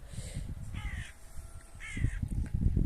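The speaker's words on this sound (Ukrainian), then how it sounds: "багато птахів різних літає" Crows caw outdoors on a spring walk through a Ukrainian town, two clear paired harsh calls spaced about a second apart, moderately near over a low rumble of background traffic and wind.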